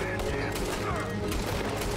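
Gunfire in the Red Dead Redemption 2 video game, a dense burst of overlapping shots and game noise running continuously under a player's excited voice.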